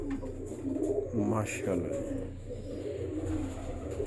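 Soft coos from breeding pigeons sound close by, while someone speaks briefly in Hindi-Urdu over a low background hum.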